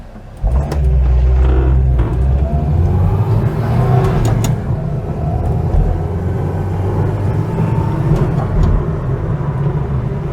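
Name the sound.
Renault 4 accelerating out of a roundabout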